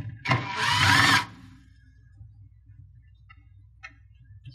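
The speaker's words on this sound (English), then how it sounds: "There's another 15 Torx right here. So we'll take that one out as well." A power driver backs a 15 Torx screw out of a KitchenAid dishwasher in one close, loud whir lasting about a second, followed by faint ticks and handling noises.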